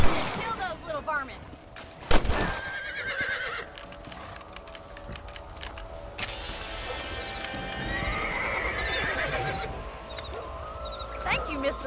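Horses in the Red Dead Redemption western game whinny and neigh with clip-clopping hooves, a few sharp distant gunshots breaking in, all fairly close and mixed with ambient game sound.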